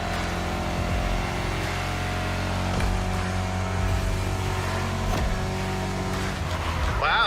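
A Ford Mustang GT500 muscle car drives through city streets, its engine droning continuously with rising and falling revs and gear changes, a sharp burst near the end.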